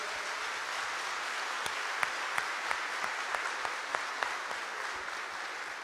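An audience claps together in sustained, dense applause throughout, heard at a moderate distance during a staff iftar gathering, with no talking.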